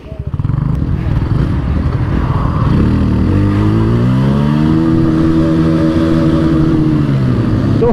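A Bajaj Pulsar N150 motorcycle launches hard and accelerates in a drag race, its engine rising through rising-pitch revs that hold steady and loud, with faint talk in the background.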